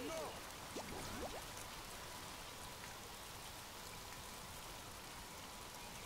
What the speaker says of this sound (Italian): Piove!